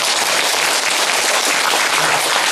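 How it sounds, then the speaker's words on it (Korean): Applause from an audience at a discussion on Zen meditation and enlightenment, a dense, loud, steady wash of many hands clapping close by, filling the whole short stretch with no voices over it. "그런 박수"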